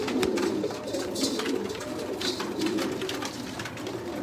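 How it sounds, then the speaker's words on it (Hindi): Sialkoti pigeons coo softly and repeatedly at close range, a low burbling murmur from several birds over light background rustle. "माशाल्लाह सारे कबूतर अच्छे ने और क्लास ने"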